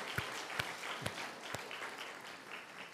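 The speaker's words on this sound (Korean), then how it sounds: "우리 한번 큰 박수로 한번 격려하겠습니다." A church congregation at a Friday late-night service applauds, a faint, moderately dense patter of clapping with a few louder individual claps standing out, recorded from some distance.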